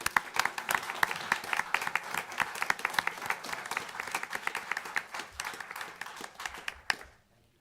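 An audience at a city council meeting gives a round of applause: many hands clap steadily and fairly close for about seven seconds, then the clapping trails off abruptly into quiet.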